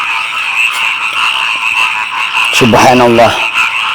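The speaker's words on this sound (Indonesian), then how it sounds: "terdengar suara kodok di sebelah kanan saya dan di sebelah kiri saya" Frogs croak steadily on both sides in a loud, dense outdoor chorus, while someone speaks briefly over them.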